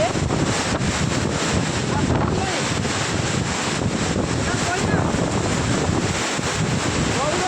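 Strong wind from Cyclone Dana buffets the microphone with a loud, continuous roar and rumble that never lets up.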